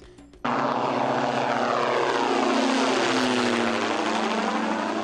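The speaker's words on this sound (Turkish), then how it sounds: "Anka ilk kez gece şartlarında iniş gerçekleştirdi." Steady, loud propeller engine drone from an Anka unmanned aerial vehicle landing at night, a strong hum that rises abruptly and holds close throughout, with slowly shifting pitch as it passes.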